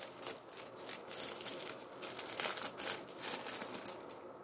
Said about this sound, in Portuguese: vamos abrir a terceira aqui, terceiro envelope